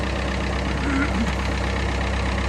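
A Massey Ferguson 698 tractor engine idles steadily after a power steering ram rebuild, a continuous low rumbling drone that holds even and close for the whole stretch.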